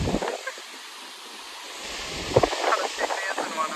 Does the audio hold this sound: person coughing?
no